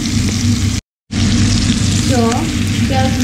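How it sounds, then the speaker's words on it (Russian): Steady, loud sizzling of chicken frying in a pan for chicken tikka masala, with a brief dropout and faint voices or clinks in the background. "Жарим в двух сторону по 5 минут, чтобы курица сок свой не дал."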